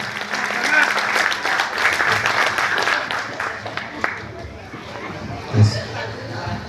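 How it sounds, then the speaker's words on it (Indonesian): An audience at a village head candidates' vision presentation applauds after a speech by Bapak Khairul Anwar, steady crowd clapping with chatter underneath that gradually fades toward the end, ending with a brief louder bump. "Persilahkan tepuk tangan untuk beliau Bapak Khairul Anwar"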